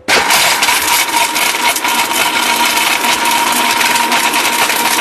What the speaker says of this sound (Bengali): পুরা ইট আস্ত ইট ব্লেন্ডারে গুঁড়া দিয়ে দিলাম